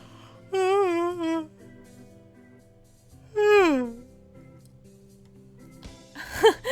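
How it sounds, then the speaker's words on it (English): Two long, loud yawns from a voice in the visual novel game Hatoful Boyfriend, each a rising then falling moaning exhale about three seconds apart, with quiet pauses and a brief clatter at the end. "That was a real yawn."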